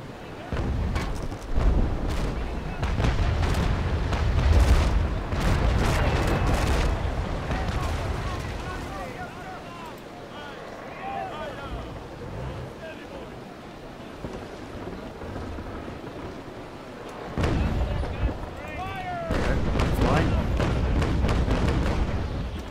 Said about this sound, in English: Stern rake me with his starboard guns.